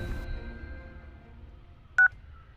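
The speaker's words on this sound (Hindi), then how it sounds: "कॉल कर इंस्पेक्टर साहब को।" A single short keypad tone from a phone being dialed cuts in sharply near the end, following quiet room hum and a faint fading tone at the start.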